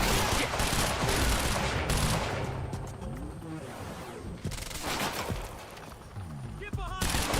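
Gunfire in the video game Quantum Break: dense, continuous bursts of shots and crashing impacts, loud and close, running through the whole stretch with a brief thinning in the middle, over game music and effects.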